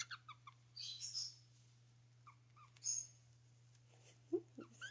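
A pet caique parrot gives short, bright chirps and squeaky calls in scattered bursts, fairly faint over a steady indoor hum.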